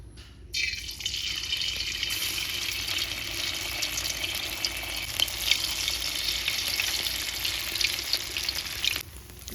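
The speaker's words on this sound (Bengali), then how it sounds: "সেই পেঁয়াজের পকোড়াটা ছেড়ে দিব।" Onion pakora frying in hot oil in a wok, with a loud steady crackling sizzle that starts abruptly and runs continuously for several seconds before cutting off near the end, no talking.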